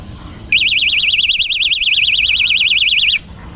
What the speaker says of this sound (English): This is my little El Cheapo bite alarm.